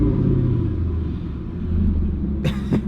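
An LS1 5.7-litre V8 in an F-body car idles with a deep, loud, steady rumble that swells slightly as it is revved, with a short sharp knock near the end.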